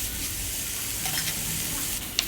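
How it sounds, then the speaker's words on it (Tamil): Tomatoes and drumstick leaves sautéing in a pan for murungai keerai soup, giving a steady close sizzle with a few stirring scrapes and one sharp clink near the end, no voices. "இதெல்லாம் லைட்டாக வதங்கினதுக்கப்புறம் நம்ம எடுத்து வச்சுருக்கிற முருங்கைக்கீரையும் இதோட ஆட் பண்ணிடலாம்"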